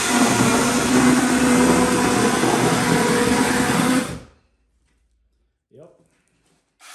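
Hychika mini cordless chainsaw pruner cutting through cardboard, a loud steady buzzing whine for about four seconds that stops abruptly, followed by quiet with brief faint rustling.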